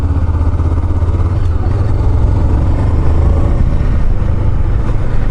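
A Honda CB500X motorcycle with a six-speed gearbox rides along, its engine giving a steady, loud drone mixed with wind noise throughout, heard close.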